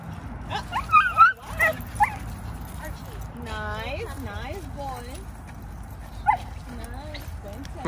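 A dog at a park whimpers and yips in a run of high, wavering cries, with a few sharper yelps at the start, while people talk nearby.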